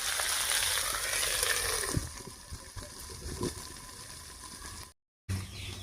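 Onion stalks frying in a pan with tomato and cauliflower give a steady, close sizzle with faint stirring clatter, fading softer midway and cutting briefly before resuming.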